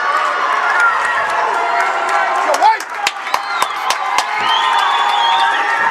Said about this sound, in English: And a big crowd here at the Curry Hicks cage